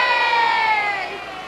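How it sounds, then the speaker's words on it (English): A short burst of crowd cheering plays as a sound effect in a children's story, bright overlapping shouts that start loud and slowly fade over a second and a half. "And the crowd cheered for Mac"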